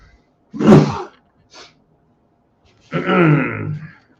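A loud, close sneeze bursts out, followed by a short sniff and then a second drawn-out, voiced sneeze-like exclamation.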